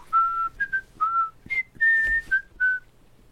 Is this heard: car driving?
no